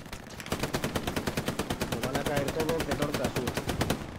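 Rapid automatic gunfire from a World War II battlefield in Hell Let Loose, with steady bursts of machine-gun shots rattling continuously at close range, while voices talk faintly underneath.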